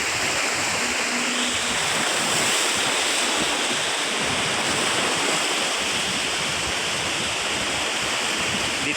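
Loud, steady roar of rushing floodwater at a swollen waterfall filling the whole clip, with wind buffeting the microphone.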